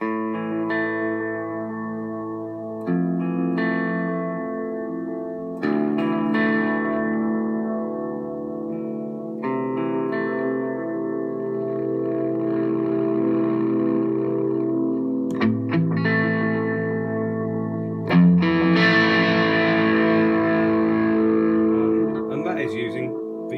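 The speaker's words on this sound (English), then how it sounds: "the Strymon's a lovely little tape delay" Electric guitar played through a Strymon El Capistan tape delay with reverb, sustained chords and notes ringing out with repeating echoes and a washy tail, loud and close, with a brighter strummed passage near the end.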